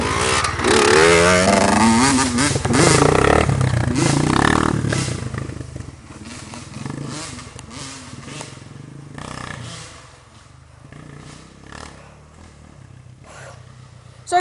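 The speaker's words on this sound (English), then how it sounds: "Two-stroke and a 4-stroke. Good mix." Two-stroke and four-stroke motocross bikes ride a backyard dirt track. Loud, close engine revving and roaring comes first, then the bikes fade to a more distant, fluctuating buzz as they move around the track.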